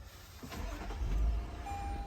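A 2022 Toyota Tundra SR5 TRD turns over and its engine catches on the trail, a soft low rumble that swells and settles into a quiet idle.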